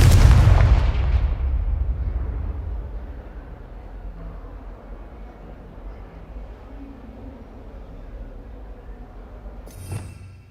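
A Confringo blasting spell explodes in a Harry Potter video game: one loud, booming blast at the start that fades into a long low rumble, with a faint sharp pop near the end.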